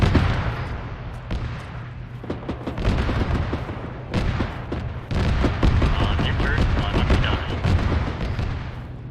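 Gunfire and BMP cannon fire rattle in an Arma multiplayer battle, a dense run of sharp shots and heavy booms at varying distances, with voices talking in between.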